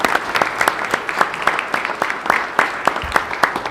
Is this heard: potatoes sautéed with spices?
no